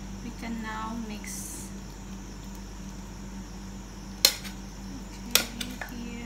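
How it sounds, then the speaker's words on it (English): Penne pasta with sardines is stirred with utensils in a pan, giving a couple of sharp metallic clinks and faint scraping over a steady low kitchen hum. "Our penne pasta, we can now mix."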